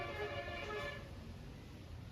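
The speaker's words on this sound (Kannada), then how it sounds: "ಹಾರ್ನು ಲಾರಿದು" A lorry horn honks on the road in one steady, fairly loud blast that lasts about a second, then gives way to continuous road and traffic noise.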